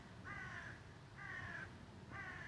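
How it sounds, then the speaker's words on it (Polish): Crows caw outdoors three times in a steady rhythm, each call a short harsh cluster, fairly distant and faint over a low background hum. "Wrony jeszcze żyją"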